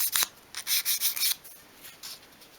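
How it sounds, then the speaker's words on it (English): Fine grade sandpaper rubbed over a miniature 1/12 scale wooden chest of drawers, a series of short close scratchy strokes in an uneven rhythm, quiet and alone. "I just like to go over the top with a piece of fine grade sandpaper just to tidy that up"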